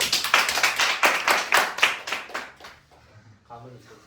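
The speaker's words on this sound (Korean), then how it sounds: "박수!" A math class on limits of functions breaks into hand clapping. Quick, sharp claps in a rhythmic run last about two and a half seconds, then thin out and fade into near quiet.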